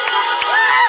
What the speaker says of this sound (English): The singer posted a video on Instagram of people cheering on the streets.